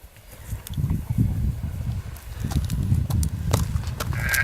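A horse walks nearby, hooves clip-clopping in a steady, uneven rhythm over a low rustling background.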